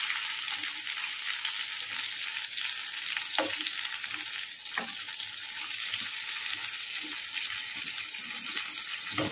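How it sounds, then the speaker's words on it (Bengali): Tangra fish frying in oil in a frying pan produce a loud, constant crackling sizzle with a few sharper spits and pops, heard up close with no talking. "আর এই ফ্রাই প্যানটা এবার মাছ ভেজে নেব।"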